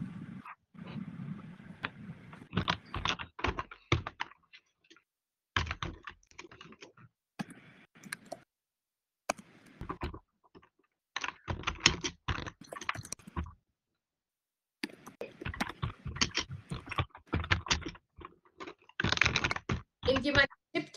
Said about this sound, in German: kann es sein, dass es deine Tastatur ist, die so sehr intensiv ist?